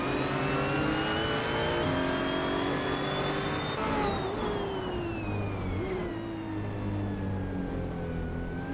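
Several 2020 Chevrolet Corvette C8R GTE race cars roar off the start at Circuit of the Americas, a loud, continuous engine wail with rising and falling pitch as they accelerate and shift, dense and close throughout.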